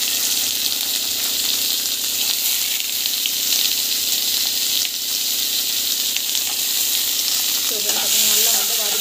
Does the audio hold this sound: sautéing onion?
yes